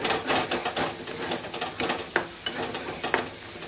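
Brinjal curry, cooked without garlic or onion, is stirred in hot oil in a frying pan: a steady broadband sizzle with scraping spoon strokes and a few sharper clacks against the pan.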